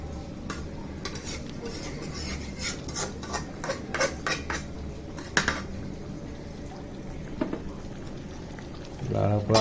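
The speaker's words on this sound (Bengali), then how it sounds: "এটা ভালো মতন নাড়া দিতে হবে।" Chicken curry being stirred in a pot, a string of sharp spoon scrapes and clinks against the metal over a low simmering bubble, with a louder clatter near the end.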